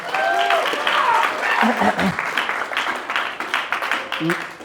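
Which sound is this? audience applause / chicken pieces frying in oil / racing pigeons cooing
audience applause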